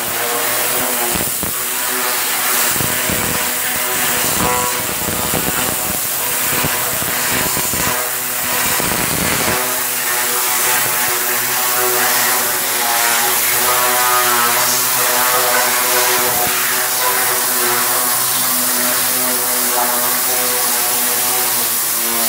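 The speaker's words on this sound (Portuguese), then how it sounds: "Vapor em ação aí para lavar a bichona," A loud, continuous hiss of a steam cleaner washing a Honda CBR600 motorcycle blasts at close range, with intermittent bursts early on before settling into a steady spray.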